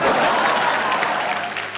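A studio audience at a televised quiz show claps in dense, sustained applause. It is loud and close and fills the whole moment without fading.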